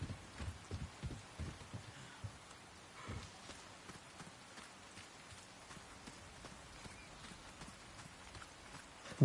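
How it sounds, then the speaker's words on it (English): Heavy raindrops in Resident Evil 4 Remake patter steadily as a faint, continuous background, with a few louder thuds and footstep-like knocks early on and no talking. "Rain drops are pretty big."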